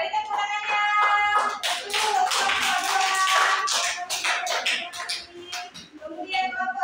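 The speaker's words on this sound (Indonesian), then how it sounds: "Ya, beri tepuk tangannya." Children in a classroom clap for a group, an uneven burst of hand claps swelling then tapering into scattered taps, with faint voices and some shuffling.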